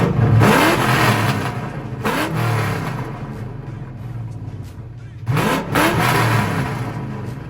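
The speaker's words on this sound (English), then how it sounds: "Just kind of how these cars sound." A chrome yellow SN95 Ford Mustang GT revs loudly up close in three strong bursts, its engine dropping back to a steady idle between each throttle blip.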